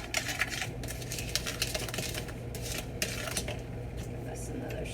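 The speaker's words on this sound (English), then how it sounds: "Give this another stir." Whisk scraping and clinking steadily around a bowl of sugar mixture for pastry cream, a dense continuous metallic rattle close by with a faint voice in the background.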